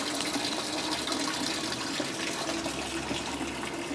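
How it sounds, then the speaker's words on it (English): Water rushes steadily through a rocky creek at the bottom of a deep gorge on a mountain trail near Ouray, a loud continuous gushing roar with no break. "you can see that's a rocky, rocky creek"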